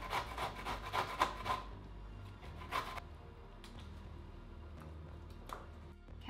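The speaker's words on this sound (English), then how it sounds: "Next up, we're gonna grate the rest of the fruits and vegetables." Pear being grated on a kitchen grater, with a quick run of crisp rasping strokes at first, another burst near the middle, then quieter scattered scrapes.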